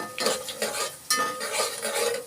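Mustard seeds frying in hot oil with a crackly sizzle, broken up by close stirring scrapes and clinks of a spoon in the pan.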